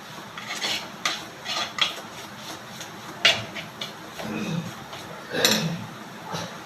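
Chilli being sautéed in a pan for a mackerel curry, with a spoon scraping and clinking against the metal in irregular strokes, one sharper knock standing out, close up and with no talk over it.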